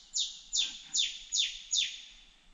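A Rufous Scrub-bird calls in a state forest, giving five sharp, loud, descending chirps at an even rhythm, each about half a second apart, ringing clearly over a quiet background.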